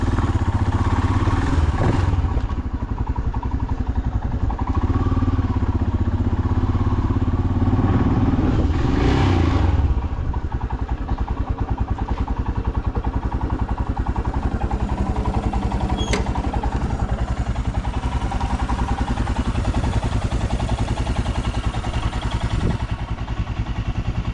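A Royal Enfield Himalayan 411 motorcycle rides through morning traffic in Nairobi, its engine a loud, close, continuous drone with slight rises in revs and rattling for the whole stretch.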